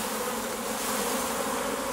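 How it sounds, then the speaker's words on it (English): Honey bees buzzing at the hive comb while packing pollen into cells, a dense, steady close-up hum with no other sounds. "the bees are packing the pollen into these cells here"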